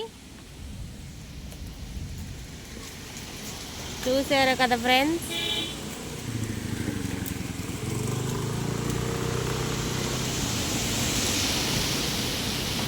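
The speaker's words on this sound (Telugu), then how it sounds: "గాలికి దుమ్ము కూడా అంతే తీవ్రంగా వేస్తుంది." Strong gusty village wind blowing dust roars as a broad, rushing hiss under a storm-darkened sky, building louder in the second half, with a person briefly talking early on.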